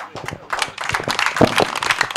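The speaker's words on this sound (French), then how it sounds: "Veuillez applaudir très fort pour le révérend Mawanga qui vient de livrer son message de paix." Audience applause for a reverend after his peace message at an International Day of Peace event, ragged clapping that starts sparse and builds into louder, denser bursts, fairly close.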